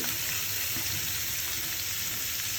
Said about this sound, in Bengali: ভেজে নেওয়া পর্যন্ত আমরা অপেক্ষা করবো